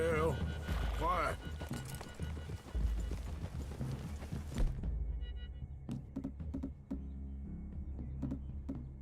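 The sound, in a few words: horses' hooves in Red Dead Redemption 2 video game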